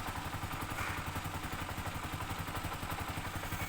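Steady motorcycle engine idling nearby at about 1000 RPM, a low even rumble with a regular mechanical clatter and no voices.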